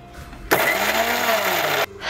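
A kitchen mixer grinder whirring through green chillies, cumin and salt, starting abruptly, running loud and steady with a rising motor whine for over a second, then cutting off sharply.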